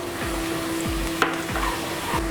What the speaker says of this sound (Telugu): పసుపు వేసుకుని ఒకసారి మనం కలుపుకుందాం